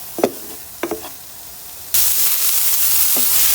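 Onions and beetroot fry in a pan with a steady, loud sizzle that jumps in suddenly after a few soft knocks and stirring taps, then holds constant.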